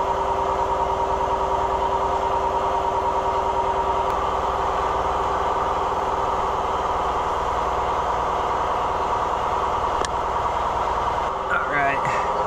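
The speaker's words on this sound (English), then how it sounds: "Sorry about the loud compressor noise in the background." An air compressor drones steadily in the background of a workshop where a Keihin carburetor is being pulled from a YZ85 dirt bike, a loud constant hum that lasts the whole stretch.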